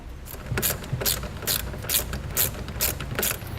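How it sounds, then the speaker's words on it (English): A socket wrench ratchets an 8mm nut back onto a trailer wiring ring terminal during a Curt T-connector harness install on a 2012 Ford Escape, giving a steady series of close, crisp clicking strokes. "Once you've got the nut removed, you'll slide on your ring terminal and reinstall the nut."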